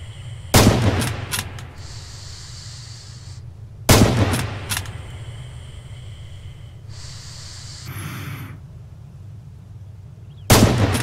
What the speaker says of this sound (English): Practice dialing in the range and fire on the targets downrange.